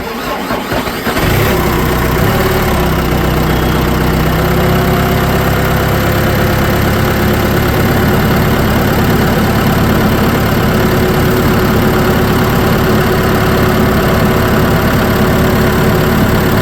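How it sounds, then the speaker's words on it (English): A John Deere diesel engine cranks and catches after its fuel system is bled of air, then settles into a loud, steady, continuous idle close by. "Let me jump in and turn the key. Hopefully, starts right up and keeps running"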